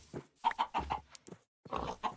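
Minecraft chickens cluck in short, soft bursts, several quick clucks in a row, a brief pause, then more clucking, faint and close with no talk over them.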